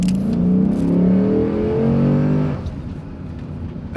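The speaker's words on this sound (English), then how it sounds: "That's a great engine." The Hemi engine of a Dodge Magnum SRT8 revs hard. The deep, throaty rumble sweeps upward in pitch and then settles back to a lower idle-like drone, with no voices over it.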